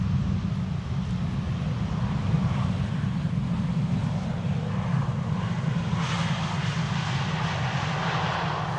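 Air Arabia Maroc airliner inbound from Tangier landing on runway 18R, the Polderbaan, at Amsterdam Schiphol: a steady, broad engine roar held at a distance throughout, with wind noise mixed in.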